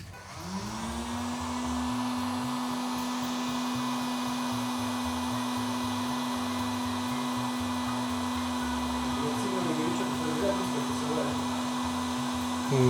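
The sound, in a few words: hair dryer running to set arrow fletching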